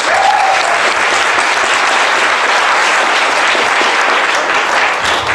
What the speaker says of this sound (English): So may all of you help me put your hands together for Samson Lee.